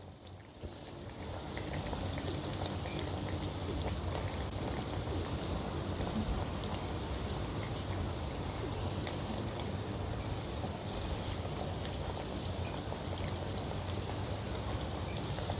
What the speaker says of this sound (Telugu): స్టవ్ని మీడియం ఫ్లేమ్లో పెట్టుకొని మంచి బంగారు వర్ణం వచ్చేంత వరకు ఫ్రై చేసుకుందాం